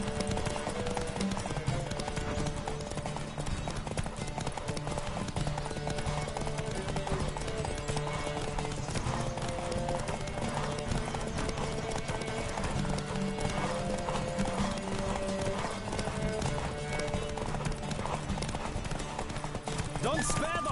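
Horse hooves galloping in The Witcher 3 open-world game, a continuous rhythmic clip-clop under dense game music and effects with a whinny, with voices talking over it throughout.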